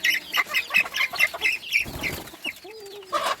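Chickens emerging from a backyard coop cluck and chatter in quick, overlapping bursts close by, with a brief lull before the clucking resumes.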